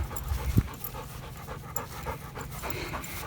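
Gibby the dog pants heavily after a walk uphill in Allardale Park, quick rhythmic breaths close by with a brief louder thump near the start and no talking.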